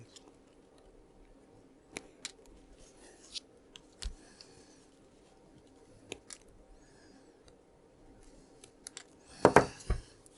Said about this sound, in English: I have now arranged my copper wires and I will trim the ends.